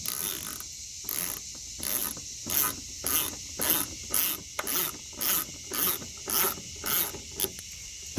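A screw turns into a 2000 Ford Ranger tail light, giving a steady run of rhythmic ratcheting bursts, about one every half second, close and clear over a faint hiss.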